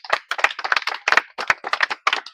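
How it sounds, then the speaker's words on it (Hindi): A crowd at an outdoor gathering of farmers claps in a brief, loud, fairly ragged burst, with roughly eight uneven pulses of applause over about two seconds and no talking. "आप लोग सभी लोग मिलकर एक ताली बजाएं"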